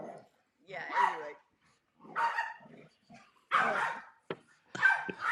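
Dogs barking at home, a pit bull and a chihuahua, with bursts of sharp barks and yips coming close and fairly loud, broken by short quiet gaps.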